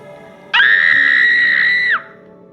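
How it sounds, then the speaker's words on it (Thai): Woman's scream used as a sound effect in a Thai ghost story drama: a single loud, sustained shriek of about one and a half seconds that starts abruptly and cuts off sharply, standing alone over a low background. "และเสียงกรีดร้องของเธอเมื่อสักครู่นี้"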